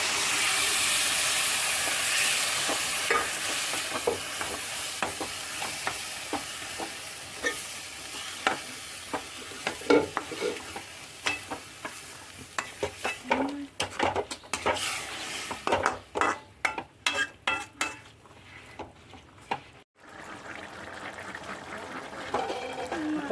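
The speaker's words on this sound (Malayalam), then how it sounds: "ഇനി നമുക്ക് നമ്മുടെ കടല ഇത് കൊട്ടിക്കൊടുക്കാം." Chickpeas tipped into a pan of tomato masala for Kerala kadala curry, a steady sizzle and hiss at first, then a burst of close scraping and clattering stirs as the frying quiets toward the end.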